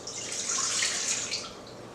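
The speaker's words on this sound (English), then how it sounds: "The things you'll be needing right now is 1 cup of water" A cup of water poured into cupcake batter for Halloween cupcakes, a steady close hissing stream of liquid for about two seconds, swelling then easing off.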